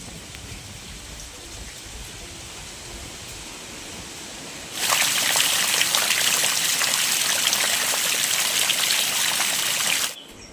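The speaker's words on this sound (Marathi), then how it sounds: "पिठामध्ये आता पाणी घालते." Water is poured steadily into flour in a home kitchen on a rainy day: a close, even rushing trickle starts about halfway through and runs for several seconds, then stops abruptly. Before it only a faint background hiss is heard.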